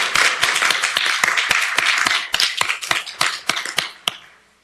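An audience at a city council meeting gives a short round of applause: close, brisk clapping from a modest crowd that thins to a few scattered claps before stopping.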